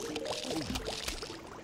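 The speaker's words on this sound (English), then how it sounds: "All I hear is like bubbles and stuff" Steady bubbling, gurgling water noise from Plants vs Zombies, continuous and moderately loud with small liquid pops throughout, no talking over it.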